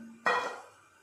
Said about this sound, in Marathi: आता आपण झाकण काढून घेऊया